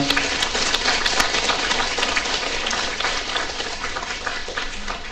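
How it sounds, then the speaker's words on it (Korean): Dense, steady applause from a congregation in the Hauhyeon tent church of the Suwon diocese, many hands clapping together at a constant, fairly loud level throughout with no voices. "거룩하게 변모될 여러분들을 위해서 박수 한번 쳐보세요"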